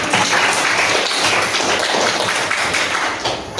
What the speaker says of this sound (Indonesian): tepuk tangan dong untuk yang sudah membeli